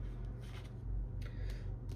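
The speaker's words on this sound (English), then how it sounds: "I don't know why I'm shuffling this." Tarot cards being shuffled by hand, giving soft repeated riffling and sliding bursts at close range over a steady low hum, with no talking.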